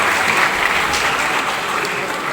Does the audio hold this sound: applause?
yes